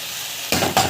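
Coriander and mint leaves hitting a pan, with two sudden bursts of loud close sizzling after a quiet start, each fading briefly.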